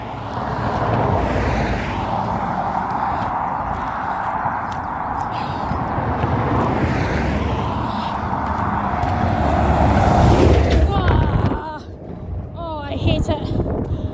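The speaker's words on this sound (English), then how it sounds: "Hate it when big lorries pass me on this bridge." A big lorry passes close on a fast road bridge in Alness, a loud sustained engine roar and rushing tyre noise that builds and then drops away, with wind buffeting throughout.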